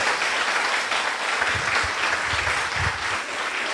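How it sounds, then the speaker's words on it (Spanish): A church congregation applauds new visitors in a steady, dense burst of clapping that holds at an even level for several seconds with no talk over it. "¿Por qué no le damos un aplauso a las personas nuevas?"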